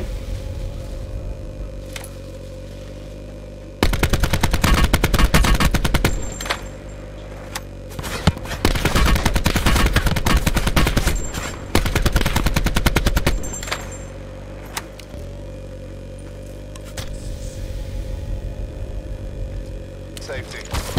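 Rapid bursts of automatic gunfire in a shooter video game, loud and dense in long volleys with short gaps, over a steady game soundtrack with a faint voice.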